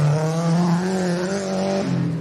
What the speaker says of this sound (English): Listen to the car going through the forest.